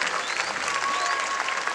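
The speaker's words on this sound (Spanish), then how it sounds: "regalen un fuerte aplauso acá a mi amiguito" A crowd at a comedy show in Chimbote claps for a child, giving a dense, even patter of applause at moderate distance with faint whistles or voices in the mix.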